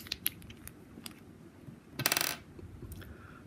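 Unscrewing the insulated cap from an Audio-Technica banana plug gives a quick burst of small metallic clicks and ratcheting near the mic, amid light handling taps in a quiet room.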